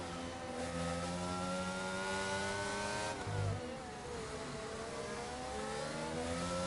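A race car revs high in a racing video game, then drops through a downshift around the middle and climbs again, with engine harmonics rising and falling.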